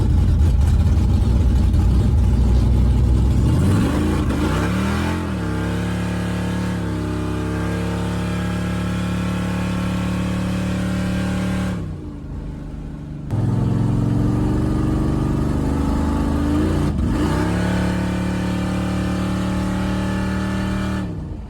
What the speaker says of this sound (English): anytime I hit the throttle, the carburetor would bog down worse than it ever has